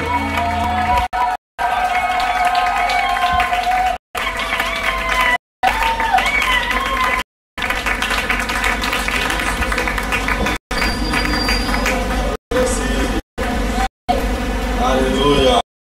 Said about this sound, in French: Sous vos acclamations, est-ce que tu peux bien acclamer?